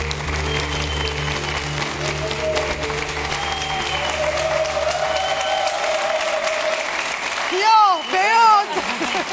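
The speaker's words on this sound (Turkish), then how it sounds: "Tezahüratlar eşliğinde programımızı açamıyoruz, açamadık bir türlü." A studio audience cheers and applauds at the opening of the Survivor Panorama TV show. The crowd noise is loud and sustained, with voices mixed in, and a few swooshing effects come in near the end.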